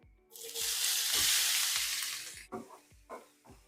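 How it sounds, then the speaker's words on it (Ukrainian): Onion and carrots fry in a pan alongside browned veal shank meat for a sauce, giving a loud, steady sizzle that fades into a few sharp scraping stirs near the end. "Усе підсмажую."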